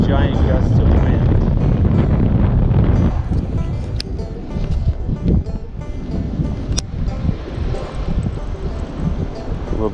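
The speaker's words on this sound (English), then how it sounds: "I'm gonna have to like time it, like in between giant gusts of wind." Strong gusting wind buffets the microphone beside a pond during a fishing outing, a loud low roar that surges and eases in waves; a voice seems to come in briefly.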